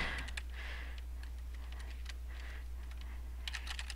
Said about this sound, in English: I type.